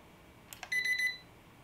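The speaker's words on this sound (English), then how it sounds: "once you let go of it, you get that beeping." Two soft clicks followed by a short run of high, rapid electronic beeps from a handheld infrared thermometer as its trigger is released, close by and otherwise quiet.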